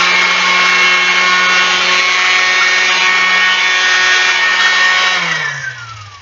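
A power sander works the wood of a chess board, including its corners, as a loud, steady high-pitched whine that runs evenly for several seconds, then winds down as the motor stops.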